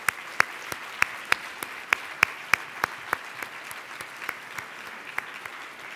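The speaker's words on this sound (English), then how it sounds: "let's give them a big round of applause" An audience at a law school panel event applauds, the dense clapping led by a run of sharp, distinct claps near the microphone that gradually thins and softens toward the end.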